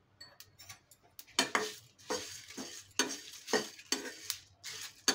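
Whole spices (fenugreek, cinnamon, green cardamom, fennel and cloves) dry roasted in a pan on a gas stove, stirred in repeated scraping, rattling bursts with a dry crackle, close and fairly loud, no talk.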